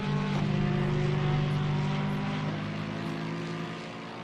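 Racing car engine in a racing video game at Watkins Glen: a loud, steady, high-revving drone with a strong harmonic whine that holds throughout and eases slightly toward the end, with no talking.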